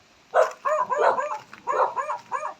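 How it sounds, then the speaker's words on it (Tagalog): A dog barks repeatedly outdoors near a land lot, several sharp, fairly close barks in quick clusters with short pauses between them. "May aso."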